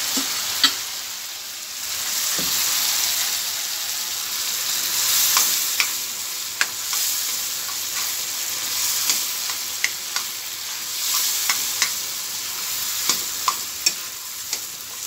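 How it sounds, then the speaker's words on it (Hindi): Taro leaves cooking in oil with tomatoes for an Assamese dish, a steady sizzle with scattered stirring clicks and scrapes throughout, close and fairly loud, with no talking. "अब मैं यहाँ ऐड करूँगी ये अरबी"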